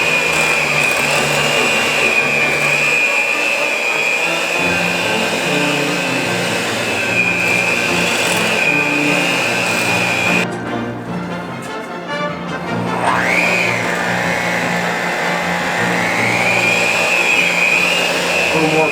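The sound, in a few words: kitchen appliance chopping potatoes for mashed potatoes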